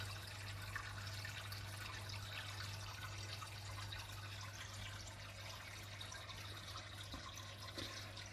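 Steady rushing and bubbling of a strong water current in a guppy aquarium, with a constant low hum underneath, continuous and even throughout.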